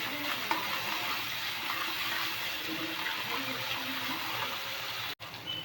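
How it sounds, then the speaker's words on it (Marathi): Onions frying golden in salt in a pan for Mumbai street-style pav bhaji, a steady even sizzle close by with a few faint stirring taps and a brief dropout near the end, no talk. "मस्त आपला कांदा आता हलून गोल्डन झालेला आहे."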